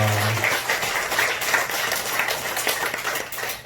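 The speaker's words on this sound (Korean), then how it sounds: "우리 박수로 해주시기 바랍니다" A church congregation applauds, with many hands clapping together in a dense, even wash of claps that carries on for several seconds, fairly loud in a reverberant hall.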